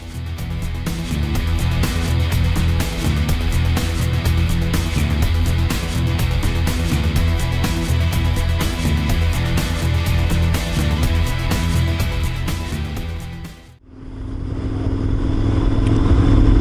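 A motorcycle on a touring ride through Thuringia pulls away and rides on, its engine droning steadily and loudly up close with wind noise, a brief dip near the end as it shifts before carrying on.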